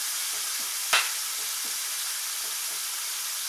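Butter sizzling in a hot pan for pan-seared steak, a steady close broadband crackle and hiss with one brief sharp click near the start and no talking.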